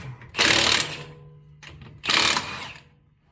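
A ratchet wrench turning a socket in a garage: two close, loud bursts of rapid ratcheting clicks, each lasting about half a second, separated by a brief pause.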